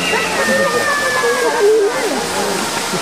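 Katibawasan Falls on Camiguin pours in a steady, loud rush of falling water that fills the scene, with people's voices talking over the roar.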